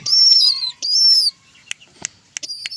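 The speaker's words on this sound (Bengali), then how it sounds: "দেখেন সাদা কবুতরটা কত সুন্দর" Two bursts of bird calling, followed by a few quick, close wing flutters from a white pigeon.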